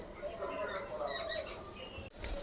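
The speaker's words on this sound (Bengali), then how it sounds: "পাখিগুলো চেঁচাচ্ছে" Birds screech and squawk nearby in a household courtyard, shrill repeated calls layered over a busy background for a couple of seconds.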